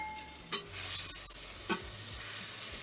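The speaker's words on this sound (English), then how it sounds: "we're gonna put our butter, and we're gonna melt the butter" Butter melts in a pan over medium-high heat for a lasagna's bechamel, giving a soft steady sizzle with two sharp clinks of a utensil against the pan.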